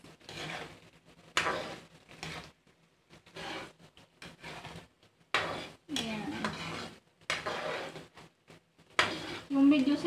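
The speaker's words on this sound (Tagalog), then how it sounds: "Halo natin ulit. Haluin lang ng haluin." Garlic is stirred in a pan for homemade chili garlic sauce, with intermittent bursts of scraping and clinking utensil strokes over a soft sizzle, separated by short pauses, and a voice speaking between strokes.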